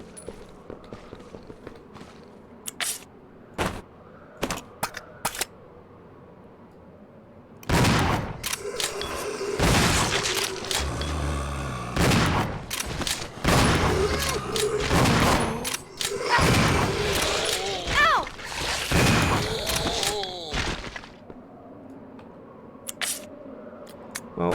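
Zombies being shot in Resident Evil Zero, with a dense burst of loud, rapid gunfire that fills the middle of the clip. Scattered single shots and thuds come before and after, and there is no talking.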